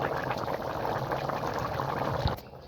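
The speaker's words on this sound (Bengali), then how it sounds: "তরকারিটা ফুটছে।" A pot of rohu fish curry bubbles on the stove, a close, steady simmering burble with small popping bubbles, fading out abruptly near the end.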